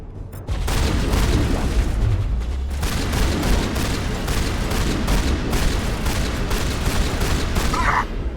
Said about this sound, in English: I love shotguns in Mass Effect.